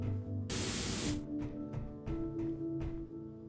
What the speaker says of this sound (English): Let's spray everything, see what they turn up as.